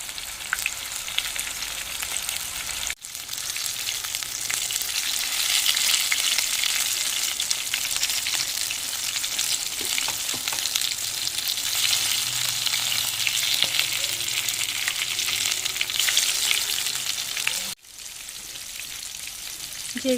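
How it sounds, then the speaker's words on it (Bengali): Katla fish pieces fry in hot oil, a loud dense sizzle that swells as pieces go in one by one, with a brief break and steady hiss throughout. "এখন আমি মাছগুলো ভেজে নেব একে একে দিয়ে"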